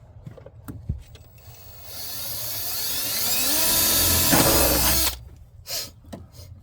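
A power drill bores holes for speaker mounting in an old Ford truck, a loud steady whine of about three seconds that rises in pitch partway through, framed by brief clanks and handling noises before and after.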